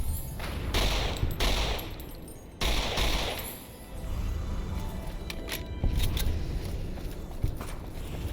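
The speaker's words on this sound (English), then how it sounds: "Seem to have reduced the fire rate of this pistol in an update." Pistol fire in the video game Fallout 3, heard as loud, dense bursts of shots in rapid succession, broken by a short pause and followed by quieter clicks and scuffs.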